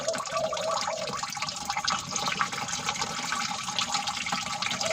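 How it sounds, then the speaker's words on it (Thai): Ten liters of water pour steadily into a container while a garden pest spray is mixed, a continuous close splashing gush that runs unbroken throughout. "ใส่น้ำสิบลิตรนะ นี่น้ำ ใส่ไปเลยค่ะ"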